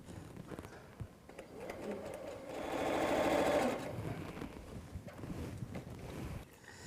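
A sewing machine runs steadily while stitching the top of a butterfly quilt block to its bottom, with a swell of louder, faster stitching midway through. The machine is fairly faint, with a voice speaking softly near the start.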